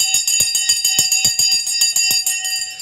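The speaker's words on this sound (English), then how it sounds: "The bell has gone." A bell rings on a live trading show as markets open, sounding loud and close in a rapid, continuous series of metallic strokes with sustained ringing overtones for about three seconds.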